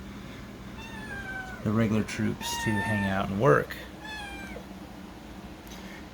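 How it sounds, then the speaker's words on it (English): A cat meows a few times, drawn-out and close, while a person keeps talking over it. "And that is my cat"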